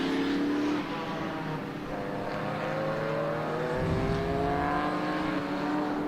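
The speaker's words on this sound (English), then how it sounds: "Car 52, the beautiful little Alfa Romeo there, heading around on our screen." An Alfa Romeo race car laps a circuit at a historic racing festival, its engine note loud and close, rising and falling steadily through gear changes without talk.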